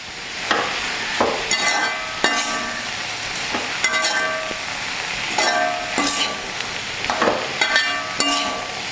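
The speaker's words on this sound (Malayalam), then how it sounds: "എല്ലാം ഒന്ന് നല്ലോണം ഫ്രൈ ആവുന്നവരെ കുറച്ച് നേരം ഇത് വേവിക്കണം" Prawns and onion frying in a pan for a Kerala-style prawn fry, a steady crackling sizzle broken by repeated scrapes and clinks of a spoon stirring against the pan, close and fairly loud, with no voices.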